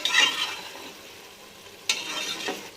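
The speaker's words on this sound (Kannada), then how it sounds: "ಈಗ ಪನ್ನೀರ್ ಹಾಕಿದಾದ್ಮೇಲೆ ಈ ರೀತಿ ಲೈಟಾಗಿ ಮಿಕ್ಸ್ ಮಾಡ್ಕೊಳ್ಳಿ" Paneer is stirred lightly into pulao in a pan, with two bursts of spoon scraping and soft sizzle separated by a quieter frying stretch, close and unaccompanied by talk.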